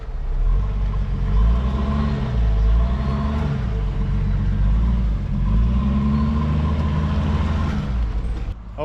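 A heavy 2.5-metre-wide expedition truck grinds through mud, its deep engine droning steadily and loudly throughout with shifting low tones as it works through the terrain.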